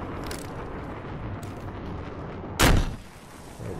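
An RPG rocket launcher fires on a Battlefield 4 test range: one sudden, loud blast bursts out near the end and fades quickly over a steady low background rumble.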